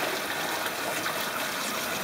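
Cold running water gushes over pho bones as they are rinsed, a loud, close, steady hiss of water.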